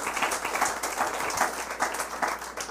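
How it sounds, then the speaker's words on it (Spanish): A church congregation at a Christmas memorial service applauds, a dense, fairly distant wash of many hands with a loose pulsing rhythm and no voices on top. "Denle un aplauso."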